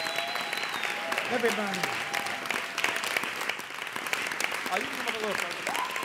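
An audience claps steadily at a live show in downtown Los Angeles. Someone speaks over the ongoing applause.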